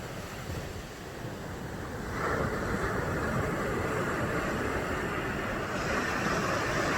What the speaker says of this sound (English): this is the Santa Monica Beach, right here in front of me.